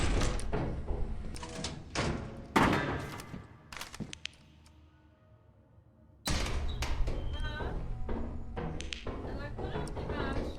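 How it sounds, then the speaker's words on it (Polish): A door in the video game Lethal Company opens with a thunking slide amid game sounds, while people talk over it. "Tworzę tu drzwi."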